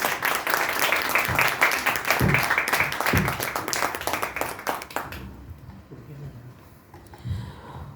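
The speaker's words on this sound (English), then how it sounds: "Can we have one more loud round of applause" An audience at a Mrs. India Inc pageant event applauds with dense, loud clapping that fades out abruptly about two-thirds of the way through, leaving quieter room noise.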